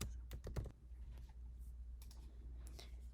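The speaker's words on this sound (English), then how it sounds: "click where you want to type and you can just type some kind of text out." Computer keyboard typing, a quick close cluster of key clicks at first, then lighter scattered taps over a faint steady hum.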